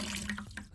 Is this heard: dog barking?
no